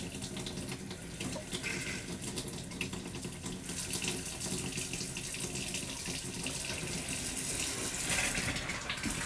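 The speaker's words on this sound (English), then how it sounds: "Hot water pressure is coming out of here slowly." Hot water faucet in a 2020 Jayco Eagle 29.5 BHDS RV running with low pressure, a steady close hiss and trickle of water that carries on without a break.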